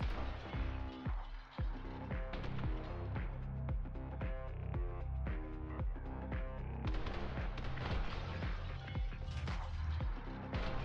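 Machine gun fire in the video game The Hong Kong Massacre: rapid, loud bursts of gunfire layered over driving game music, with a voice talking faintly underneath.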